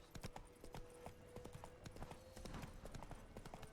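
Horse hooves clip-clopping at a steady trot in the video game The Witcher 3, a close, rapid, even rhythm of sharp knocks throughout, with faint game ambience beneath.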